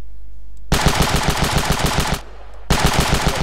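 Rapid automatic gunfire from the video game Ravenfield rattles in two loud, sustained bursts with a short pause between, close and unbroken by talk.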